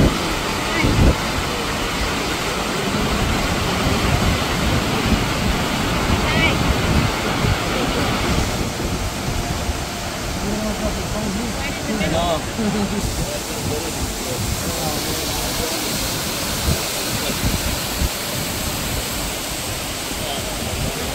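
A waterfall on an Oregon hike roars up close as a loud, steady rush of falling water mixed with wind buffeting the microphone, unbroken for the whole stretch.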